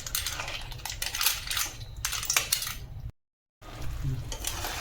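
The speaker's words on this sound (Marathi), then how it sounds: "जोरात हलवायचं नाही, याला सावकाश हलवून घ्यायचं" Clams (shimpla) are turned slowly in a pan, producing gentle shell clicks and scrapes over a faint sizzle, with a brief dead-silent gap before the soft stirring resumes.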